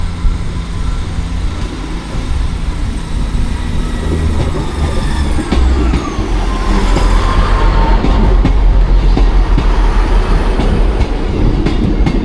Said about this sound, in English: I think we're just in time to catch the Leeds train making its way out.